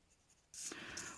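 A felt-tip pen scratches across paper in one close, brief stroke of faint squeaky friction, following a near-silent moment.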